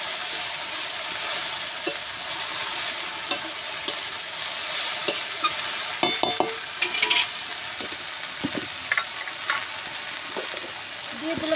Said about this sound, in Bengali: এবার ভালো করে নাড়াচাড়া করে দিই।